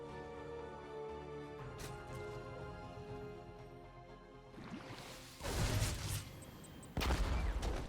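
Reaper unit gunfire in the StarCraft 2 video game, heard as bursts of shots that grow louder later on, mixed over dense game effects and music with no talk.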